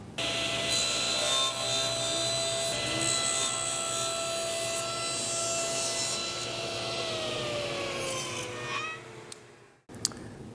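Tablesaw blade cutting slots into a walnut component, a steady sustained whine with a sharp pitch drop as the cut finishes, ending abruptly near the close with a brief click after.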